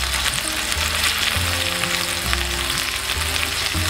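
Potatoes browning in a hot pan for a butternut curry with lentils, a steady close sizzle and frying crackle with faint stirring, no talk.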